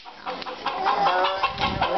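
Chickens cluck in short, close, chattering bursts, several overlapping calls forming a busy, continuous fowl chorus.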